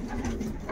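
Pigeons in a racing pigeon loft give a brief low cooing murmur, close and soft, with faint rustling around it.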